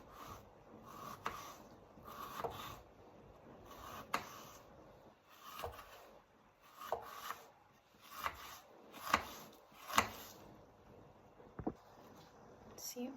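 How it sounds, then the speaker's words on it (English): A paring knife slices halved onions into julienne strips on a board, giving a steady run of crisp, close chopping strokes, roughly one or two a second, with a few sharper cuts between them. "Then cut my onions in halves. I'll use a paring knife to cut them"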